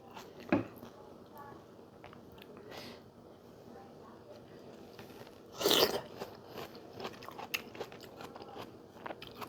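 Crisp bites and chewing of a raw eating tomato with crunchy, juicy flesh, close and fairly soft, with one louder crunch midway over a steady background hiss.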